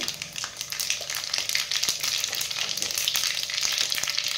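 Mustard seeds and cumin sizzling in hot oil, a dense, loud crackle and hiss up close, with faint pops and spatters throughout.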